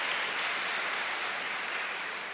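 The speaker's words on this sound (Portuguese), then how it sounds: "Uma salva de palmas para esse menino" Steady applause from a church audience for a young man, a dense even wash of clapping that stays level and fairly distant throughout, with no talking over it.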